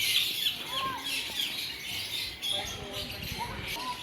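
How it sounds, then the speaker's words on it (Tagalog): Assorted birds chirp and call at a mini zoo in Pugo, La Union, Philippines, a steady wash of high tweets with a few clearer calls, while people talk nearby over the ambience. "mga ibon, iba't ibang ibon ang nandito."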